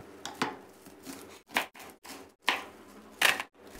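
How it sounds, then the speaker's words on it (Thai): A knife chopping napa cabbage and green onions on a board in a few separate bursts of quick, crisp cuts, close and moderately loud, with short pauses between. "นำผักกาดขาวและต้นหอมของเรานะครับมาหั่นเป็นชิ้นเลยครับ"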